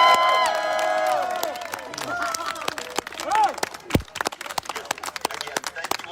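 A large crowd cheers and applauds loudly, with a swell of shouting voices followed by scattered clapping that thins toward the end.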